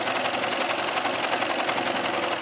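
A sewing machine runs continuously, stitching a knit waistband onto an A-line skirt, its needle chattering in a fast, even rhythm, loud and close with no talking.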